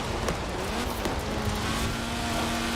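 A Fiat X1/9 accelerates on a dirt rally stage in Forza Horizon 4, giving a steady, loud engine drone with a rising tone and constant gravel and road noise throughout.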